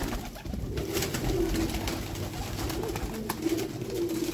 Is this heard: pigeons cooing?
yes